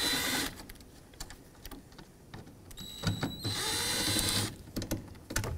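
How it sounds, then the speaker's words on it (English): A powered driver with a T25 Torx bit unscrews the master cylinder reservoir on a 2013-2019 Ford Escape, giving two close whirring bursts separated by quieter clicks and handling noise, with no speech. "Next, I want to take off the master cylinder reservoir with a T25 Torx bit."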